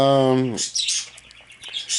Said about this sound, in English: And then they hear these goddamn birds, and they're like, oh my God.